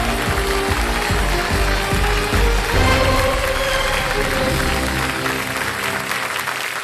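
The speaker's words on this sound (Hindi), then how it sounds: "तालियां बजती रहे।" Applause from the studio audience of the quiz show Kaun Banega Crorepati, steady and loud, with music playing underneath throughout.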